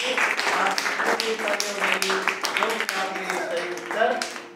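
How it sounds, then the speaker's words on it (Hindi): Scattered clapping rings out in an online Hindi grammar quiz after a correct answer, a few seconds of uneven claps mixed under a speaking voice that continues throughout. "आपका सही उत्तर के लिए तालियां बजा दीजिए"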